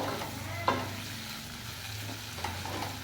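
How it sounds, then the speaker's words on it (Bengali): Bay leaves and spices frying in a pan for egg dal, a steady soft sizzle with occasional stirring scrapes, close and alone without talk. "আর দেব দুটো তেজপাতা। ভালো করে কষিয়ে নেব।"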